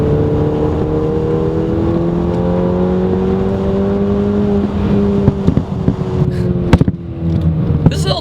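A 2015 VW GTI with a 2-liter engine pulls hard along a back road, its engine note rising steadily through the gears, heard from inside the car, with clunks and knocks near the end.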